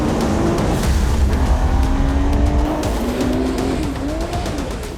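A Porsche road car runs fast on a race track, its loud engine note rising and falling with shifts, tyres squealing through corners. The car stays close throughout with no talk.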